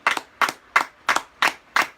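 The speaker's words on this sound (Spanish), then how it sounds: "Denle un aplauso al Señor Dios de la gloria" Six sharp claps ring out in a slow, even rhythm, each crisp and close with a quick double-edged snap, as a church congregation applauds for Jesus Christ.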